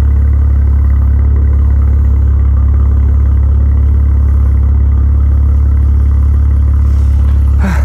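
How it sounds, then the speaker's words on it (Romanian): Close, steady idle from a Maserati Levante SUV's Ferrari-built engine through its twin exhausts per side, a deep even rumble throughout with a brief disturbance near the end. "Și avem evacuări, câte două pe fiecare parte și nu sunt false. Adică mașina asta se aude ceva de genul ăsta."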